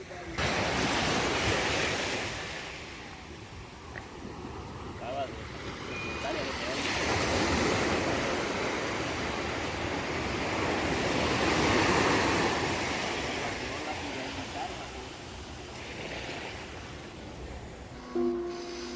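Ocean waves roll onto a beach in Zihuatanejo, Mexico, the surf swelling and receding in slow washes with wind buffeting the microphone, and faint beeps and voices in the background.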